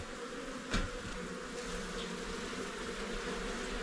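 A steady, dense buzzing of many honey bees in a hive fills the air, close and continuous, with a low hum underneath and no talking.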